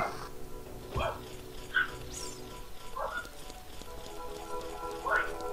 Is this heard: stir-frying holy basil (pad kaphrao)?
no